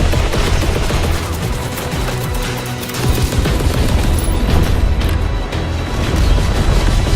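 Dense, continuous gunfire and explosions in the Call of Duty WWII video game, with overlapping rifle and machine-gun bursts and heavy booms sustained at high loudness throughout.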